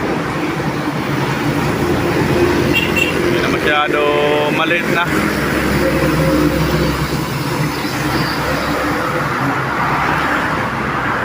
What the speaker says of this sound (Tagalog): LRT yun.